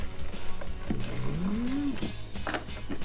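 Lake day punch pours steadily into a container, a continuous close liquid splash with a faint rising gurgle partway through and light sounds of handling around it.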